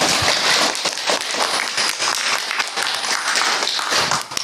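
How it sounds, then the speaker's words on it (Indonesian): An audience at a Muharram preaching competition claps in steady, dense applause, close and fairly loud, continuing for the whole stretch before tapering at the end. "Tepuk tangannya"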